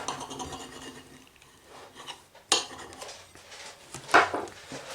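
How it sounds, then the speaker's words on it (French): A knife cuts through a microwaved homemade pizza topped with bacon lardons, giving close scraping and rasping strokes with a couple of sharper cutlery clinks against the plate, no talk. "Voilà, j'ai coupé ma pizza"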